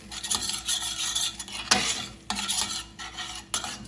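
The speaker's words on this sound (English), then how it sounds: "I'm going to stir this in" Spoon stirring melted cheese through ground sausage in a pan, a steady scraping and squelching with a sharper scrape near the middle and soft sizzle underneath, close and fairly loud.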